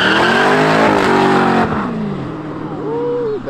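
A car at a street race laying rubber, loud engine roar and squealing tires that fade as it pulls away, followed by a thinner whining squeal, near and intense.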